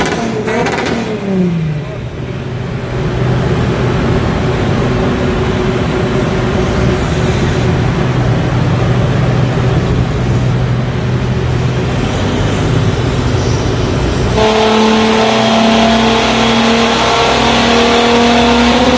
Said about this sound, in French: c'est parti, la voiture va passer au banc.